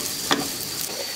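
A tablespoon of butter sizzles in a hot pan of rice for pilaf, a brief, steady close hiss with a single soft knock partway through and no talking.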